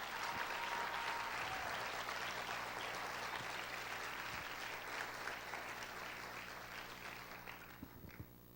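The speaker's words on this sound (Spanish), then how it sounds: "Dele ese aplauso al Señor." A church congregation claps for the Lord in a sustained, dense round of applause that holds steady and then gradually thins and fades toward the end.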